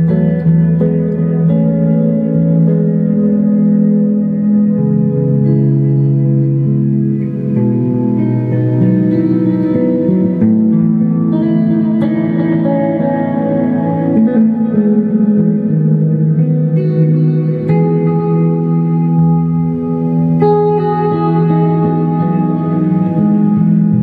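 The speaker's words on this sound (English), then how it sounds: "I got a new amp, a deluxe reverb, and I absolutely love the sound" Electric guitar rings out through a Fender Deluxe Reverb amp, sustained chords and melodic notes washed in spring reverb, loud, continuous and close.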